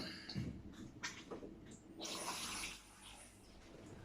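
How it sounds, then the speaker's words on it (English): A short pour of water splashes into the bottom of a roasting tin holding a tied chicken topped with herbs, a brief hissing trickle lasting under a second, quiet and close. "I'm going to put a little bit of water in the bottom of the tin"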